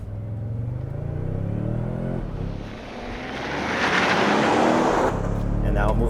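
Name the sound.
2023 Toyota Sequoia Capstone launching in tow haul mode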